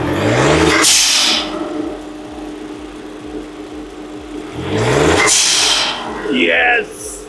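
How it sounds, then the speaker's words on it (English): A VW Polo GT TSI with a newly fitted blowoff valve and aftermarket intake cranks and settles into a steady idle, with sharp bursts of revving at the start and again later; close and loud, with a brief chirp near the end. "Blowoff valve has finally been installed. The whole point of this build was this. It's finally been done. So let's start the car."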